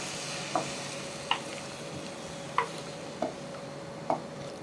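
Rohu fish curry stirred in a pan over a low simmer, with about five evenly spaced spoon taps and scrapes against the metal over a faint steady bubbling.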